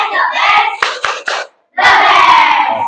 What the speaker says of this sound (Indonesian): Applause atau tepuk tangan buat kita semuanya.